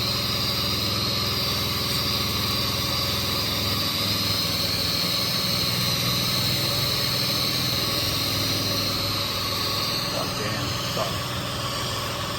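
Engine-driven pressure washer running continuously nearby while its spray rinses a wall outdoors, a steady droning motor with a hissing whine and wind noise, loud and unchanging throughout.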